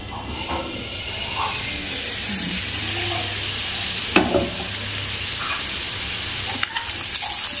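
Potatoes for Kashmiri dum aloo fry in oil in a pan, a loud, steady hiss with a few scattered clicks and knocks of stirring, close up.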